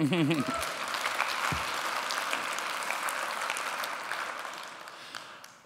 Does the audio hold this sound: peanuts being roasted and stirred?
no